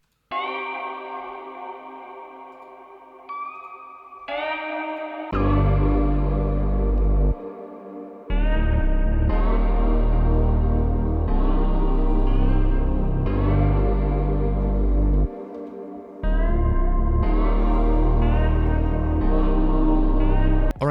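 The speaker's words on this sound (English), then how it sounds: "for the synth, I just put one effect on that, and it's basically a lot of reverb" Synth in FL Studio drenched in heavy reverb, playing sustained chords with long washing tails that swell and briefly drop out, layered over deep bass, loud and alone.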